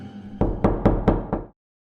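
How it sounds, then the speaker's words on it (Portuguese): Knocking on a door, about five firm, evenly spaced knocks with a hollow wooden resonance, over a faint background hum that cuts off abruptly afterward. "De repente, as batidas cessaram, embora seus ecos ainda permanecessem na casa."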